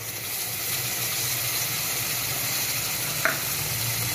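Ginger garlic paste is sautéed in a pressure cooker pot for chicken biryani, giving a constant soft sizzle with faint stirring and one brief clink near the end.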